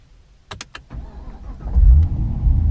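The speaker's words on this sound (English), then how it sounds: "Start the car." A manual-transmission car engine cranks and catches after a few clicks, then settles into a low, steady idle close by.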